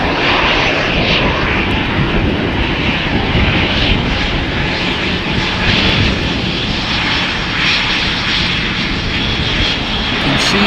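Airliner jet engines at Amsterdam Schiphol Airport give a loud, steady broadband roar just before take-off, sustained and close throughout with no talking.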